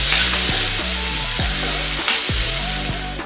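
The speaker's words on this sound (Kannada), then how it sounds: "ಇದೇ ರೀತಿ ಇದನ್ನ ಎಣ್ಣೆನಲ್ಲಿ ಫ್ರೈ ಆಗೋದಕ್ಕೆ ಬಿಡಬೇಕು." Brinjal pieces frying in hot oil for vangi bath, a steady broadband sizzle with several sharp scraping stirs of a spatula against the pan, close and fairly loud, no voices.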